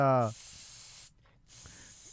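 Two airy spray hisses, each lasting under a second with a short gap between them, follow a brief burst of a voice and sit fairly close and clear.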